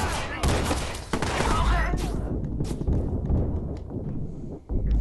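A dense burst of rapid gunfire from the video game Watch Dogs fills the first two seconds, loud and close, then thins into scattered single shots and thuds.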